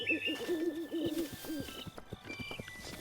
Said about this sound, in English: Why do I hear owls in the middle of the day?